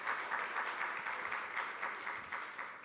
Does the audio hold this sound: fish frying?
no